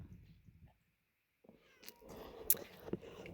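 A kitten trying to escape meows a few times in short, high cries amid light rustling and scuffling, fairly close, after a brief quiet pause.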